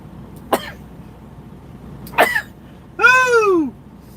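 Two sharp, explosive sneeze-like bursts a second or so apart, followed by a drawn-out voiced exclamation that falls in pitch.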